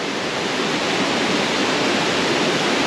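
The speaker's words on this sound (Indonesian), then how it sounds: "Memang best lah waterfall dia." Waterfall at a resort near Dabong, a steady, loud, close broadband rush of falling water with no voices.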